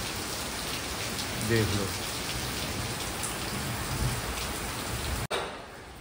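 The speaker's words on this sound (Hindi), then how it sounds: "बाहर बारिश बहुत जोर की बारिश है यार, बहुत ही ज़्यादा जोर की," Very heavy rain pours down outside, a loud continuous hiss of drops on surfaces with faint thunder, while a voice speaks briefly over it.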